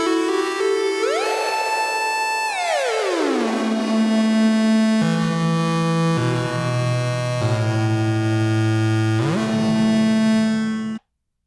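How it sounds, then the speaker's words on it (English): A synthesizer plays sustained tones that glide and step between pitches, run through a Roland E-4 Voice Tweaker with reverb turned all the way up, heavy, lingering reverb smearing each note into the next. "So our main effect here by default is reverb"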